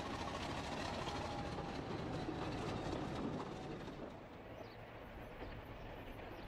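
A classic British diesel locomotive runs on the mainline, a steady loud rumble of engine and rolling wheels that continues throughout and eases slightly toward the end.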